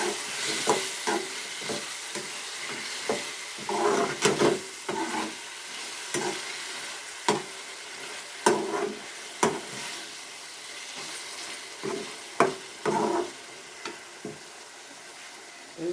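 Repeated scraping and knocking of a spoon stirring mango egg curry in a pan, irregular strokes over a low steady sizzle, close and fairly loud throughout with no voices.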